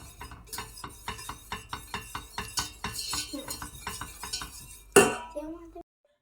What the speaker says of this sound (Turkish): Pişene kadar karıştırıyorum ki topaklanmasın, dibine tutmasın diye.